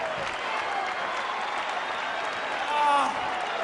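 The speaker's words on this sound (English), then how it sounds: "I want everybody to applaud Chael" An arena crowd at a UFC event, Anderson Silva versus Chael Sonnen, applauds a fighter with a dense, steady roar of clapping that swells slightly near the end, with voices mixed into the crowd noise.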